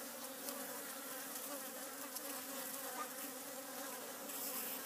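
Leaf cutter bees raid a beehive, filling the air with a dense, steady buzzing of many insects close by, with no voices.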